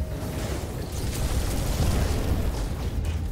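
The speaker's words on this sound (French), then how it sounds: "On explose les saintes bestioles." Deep booming explosions from the video game No Man's Sky as creatures are blown up, a dense continuous rumble of blasts filling the whole stretch with no speech over it.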